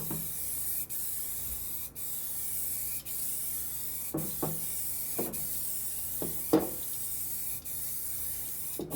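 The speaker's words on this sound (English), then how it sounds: "We'll give this a bit of a spray in here then," Zinc 182 primer is sprayed from an aerosol can onto the floor pan of a BMW E30 drift car under restoration, steady close hissing bursts with short gaps and occasional knocks and rubbing noises.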